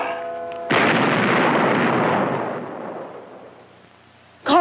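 A loud explosion bursts out in a TV action comedy after a bomb could not be defused, a sudden broadband blast that rumbles and slowly decays over several seconds, followed by a brief voice at the very end.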